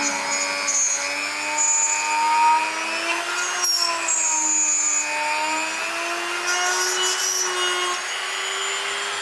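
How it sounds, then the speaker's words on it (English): A Dremel rotary tool whines steadily at high pitch, its pitch wavering slightly as it grinds against material, loud and close with no talking. "Don't you love a Dremel?"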